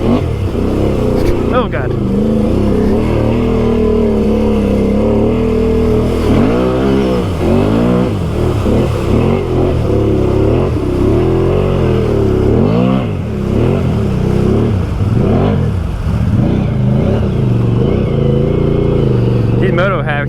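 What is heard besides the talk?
engine-swapped 850 Can-Am Outlander XMR ATV revving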